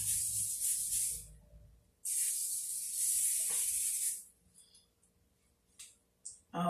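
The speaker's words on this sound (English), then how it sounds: "spray it" Hairspray is sprayed onto a styled wig in two long, close hissing bursts, followed by a few quieter short sprays.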